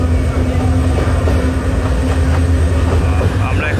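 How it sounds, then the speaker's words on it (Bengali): A Bangladesh Railway relief train pulls out of Pahartali station in Chittagong, bound for Feni, with a loud, steady rolling rumble and a constant droning tone throughout. "এখন ঠিক 5 মিনিট আগেই ট্রেনটি ফেনীর উদ্দেশ্যে ছেড়ে যাচ্ছে"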